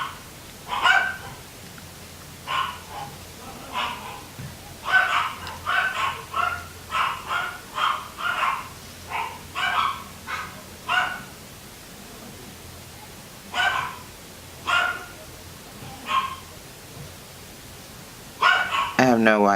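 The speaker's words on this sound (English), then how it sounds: "why are my dogs barking?" Several dogs bark indoors in repeated bursts of sharp barks and yips, fairly near. Quiet gaps fall between the volleys.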